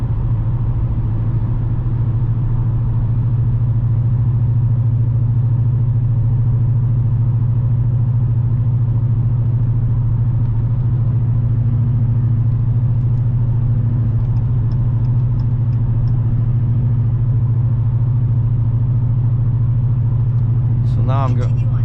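A 2018 Dodge Challenger R/T 392 cruising on Ontario 412, its engine a steady low rumble with constant road drone, loud and unbroken throughout, with a voice speaking over it.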